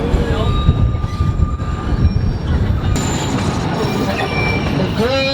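Heritage sugarcane railway train running, loud and close, with a steady rumble of wheels on track, scattered clicks and high metallic squeals from the wheels, and no clear speech.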